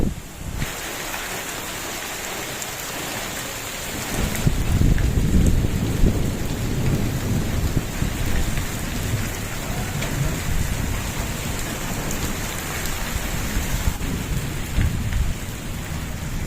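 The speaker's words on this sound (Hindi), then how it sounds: "आसमान पर बादल भी आ चुके हैं, साथ साथ गरज भी रहे हैं माशाल्लाह और हवा भी चली है तेज़ तेज़" Steady rain and gusting wind on a cloudy day in a village, with rolling thunder rumbling low and strengthening partway through, the storm sound unbroken and without voices.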